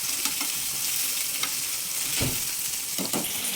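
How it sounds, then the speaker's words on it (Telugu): Onion and green chilies frying and sizzling in hot oil, a steady broad hiss with occasional stirring scrapes as the pieces are mixed, close and moderately loud with no talking. "ఇప్పుడు దీంట్లో ఆనియన్ పచ్చిమిర్చి వేసేస్తున్నాను"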